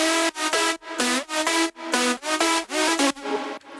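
Layered synth harmony and lead synth from an EDM drop for a track, playing bright stacked chords in rhythmic stabs roughly every half second, loud and up front with no voices.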